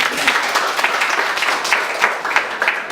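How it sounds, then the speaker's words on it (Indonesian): An audience at a community gathering in Merdey District, Bintuni Regency, claps in a dense, steady burst of applause that carries at even loudness across the whole stretch, close and lively. "Tepuk tangan dong buat dia."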